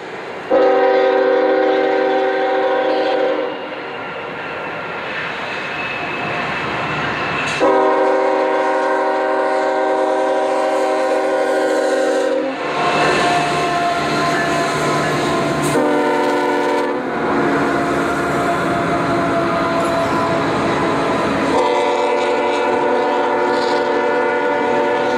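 Freight trains, including double-stack trains with GP38-2 locomotives, at a mountain rail yard: loud, close multi-tone horn blasts sound repeatedly in long chords over a steady engine rumble, with no talking.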